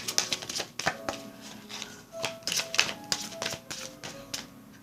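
Tarot cards shuffle close up in a quiet room, giving a rapid, irregular run of crisp riffling taps and slaps at low volume with no talking.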